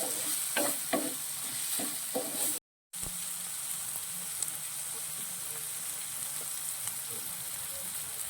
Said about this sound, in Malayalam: ഒന്ന് നന്നായിട്ടൊന്ന് മൂപ്പിക്കാം നമുക്ക്